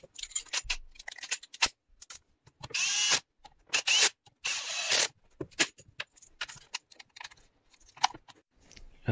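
Recoil starter housing is refitted onto a Stihl MS260 chainsaw during a cylinder and piston rebuild, heard as scattered close clicks, taps and short rasping scrapes of plastic and screws with pauses between.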